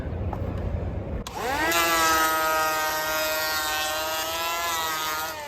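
A power planer spins up with a rising motor whine and then runs a steady, loud high-pitched cut along a wooden board set one click deep.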